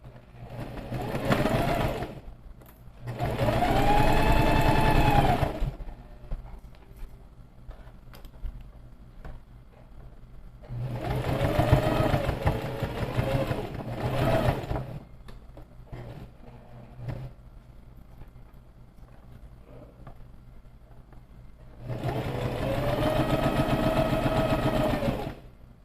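A sewing machine stitches a side seam on a garment with an applied zipper, in four close, loud runs of steady whirring, two short and two longer, with quieter gaps between.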